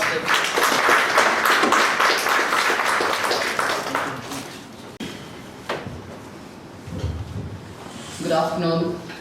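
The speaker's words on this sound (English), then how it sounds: "Can we have a big round of applause?" Applause from an audience at an income tax technical seminar, dense broadband clapping for several seconds that thins out before a voice begins speaking near the end.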